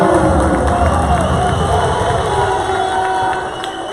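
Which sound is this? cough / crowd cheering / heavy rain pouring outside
crowd cheering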